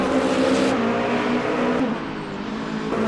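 Number 5 Penske Porsche race car in Le Mans Ultimate at the 24 Hours of Le Mans, engine droning loud and steady at high speed with a brief dip in pitch near the middle, no talk.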